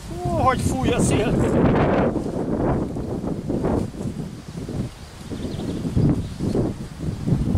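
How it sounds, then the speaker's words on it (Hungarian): Gusty wind blows across a stony garden planted with new plants, buffeting the microphone in loud, uneven rushes that rise and fall throughout. "Hogy fúj a szél."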